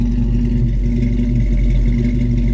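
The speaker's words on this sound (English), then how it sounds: "Dual exhaust sounds great" A 1935 Ford's engine runs steadily through a dual exhaust, a close, continuous low rumble holding even throughout with no talk over it.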